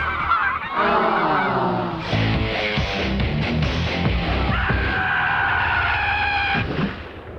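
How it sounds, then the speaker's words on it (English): Canada geese honk loudly and repeatedly, a dense overlapping chorus of calls from a nearby flock, continuing steadily throughout. "at the sight of a flock of Canadian geese"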